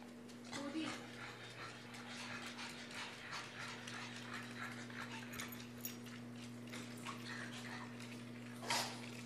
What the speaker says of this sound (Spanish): les contestaba a los ladridos